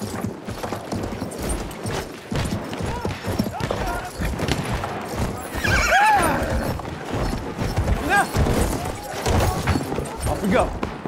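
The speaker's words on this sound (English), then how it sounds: "Come on, horse." Horse in the Battlefield 1 video game neighs and whinnies while its hooves clip-clop at a gallop, set amid battle noise and gunfire, with a voice speaking over the action.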